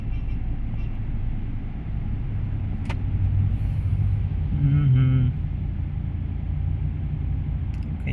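Steady road traffic rumble with cars passing close by, a low continuous engine drone swelling briefly in the middle, heard from inside or beside a vehicle in morning traffic.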